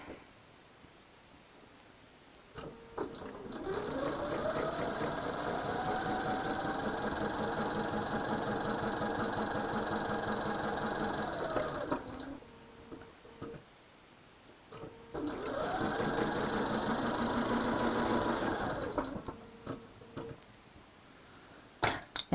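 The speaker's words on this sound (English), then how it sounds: "And I'm going to sew down that side." A sewing machine stitches down the side of a quilt block in two steady humming runs, a longer one of about ten seconds and a shorter one of about four, with the motor pitch rising as each run starts.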